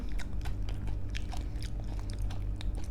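Close, crisp crunching from biting and chewing a crunchy roselle flower snack, with rapid irregular crackles over a low background hum.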